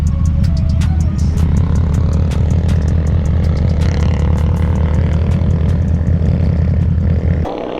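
Suzuki DRZ motorcycles ride up on an off-road outing, their engines making a loud, continuous low rumble with rapid pulsing close by, cutting off abruptly near the end.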